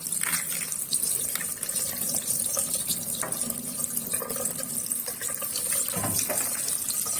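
Running tap water pours steadily into a sink while stockfish is washed under it, a continuous close splashing stream with small shifts as the fish moves through the flow.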